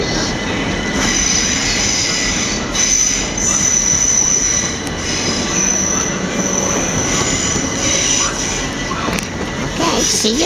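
A train at Clapham Junction station squeals loudly along the rails in the evening, a sustained high-pitched wheel screech over a rumbling, clattering roll, with faint station noise in the background.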